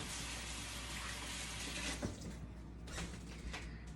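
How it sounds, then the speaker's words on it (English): A kitchen tap runs steadily while hands are washed, a continuous broadband rush of water with small splashy shifts as the flow is interrupted near the end. "let me wash my hands"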